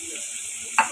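Dried chilies and chopped onion in a frying pan give a faint, steady sizzle under a high hiss, ending with one brief louder scrape of stirring.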